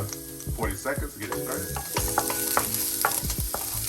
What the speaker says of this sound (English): Nice little pan, a little olive oil to get it started. Hey guys, we're gonna start with half our garlic.